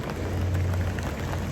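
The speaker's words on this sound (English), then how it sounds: "Raining this morning for the walk" Steady rain falls during a morning walk in Sydney, a continuous even hiss of drops on surfaces with a low rumble underneath, close and unbroken throughout.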